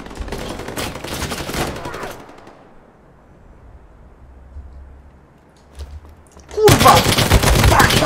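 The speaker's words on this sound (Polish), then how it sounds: "No przecież strzelałem do niego!" Rapid bursts of gunfire from the World War II shooter game Battalion 1944, loud and dense for about two seconds, then a quiet gap before another heavy volley erupts near the end.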